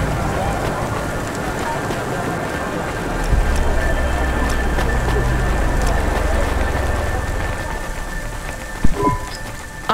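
Heavy rain pours in the Cloudpunk video game's cyberpunk city, a dense continuous hiss of drops on surfaces with a deeper rumble swelling midway and a brief thump near the end.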